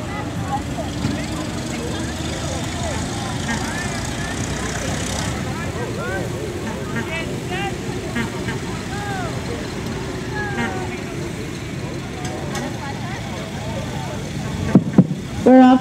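An antique Studebaker car runs in a slow race at the Old Car Festival, Greenfield Village, its engine drone steady through the whole stretch amid crowd chatter, with a few sharp knocks right at the end.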